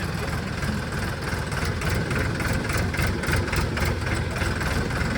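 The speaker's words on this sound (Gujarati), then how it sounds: "હવે ટ્રેક્ટરને દોડાવવાનું છે." A tractor engine runs steadily, a loud, close, rumbling drone with a rapid rhythmic knocking pulse and vibration throughout, no voices over it.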